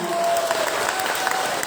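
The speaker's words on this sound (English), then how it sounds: "But let's give a round of applause to Piper." A bar crowd at a nerd night applauds a speaker named Piper, with dense, loud clapping and a hint of cheering throughout the brief stretch.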